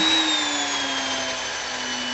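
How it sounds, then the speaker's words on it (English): A plugged-in electric drill runs at a constant speed while shaping contrabassoon cane, producing a steady, close, high whine with a slowly falling pitch. "So I want to run my drill at a constant speed"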